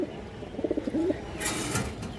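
A pigeon coos in a short rolling phrase close by in a breeding loft, followed by a soft rustle and a brief bright scrape, with no voices.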